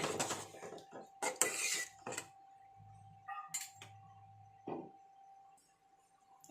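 Metal pot and lid clatter close by as a lid is set onto a cooking pot, a few sharp clanks and scrapes with quiet gaps in between and a faint steady hum underneath.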